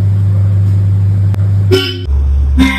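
A sports car's horn honks twice, two short loud toots separated by a brief gap, with a steady low engine idle underneath and no talk.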